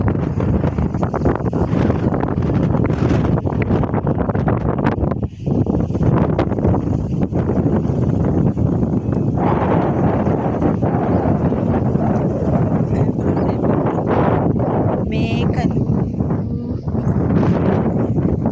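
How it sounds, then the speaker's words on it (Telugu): Strong, steady wind rushes and roars through trees across the whole stretch, buffeting loudly and continuously, with gusts swelling and easing but never dropping away. "చూడండి గాలికి చెట్లు ఎంత బాగా ఆడుతుంది."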